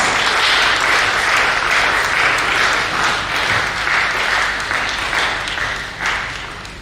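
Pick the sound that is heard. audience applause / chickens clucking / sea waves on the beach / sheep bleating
audience applause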